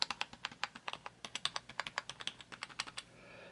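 Rapid, uneven typing on an IBM PCjr keyboard whose keys have been treated with 303 protectant, a close run of about twenty crisp key clicks with no squeaking, ending in a soft hiss.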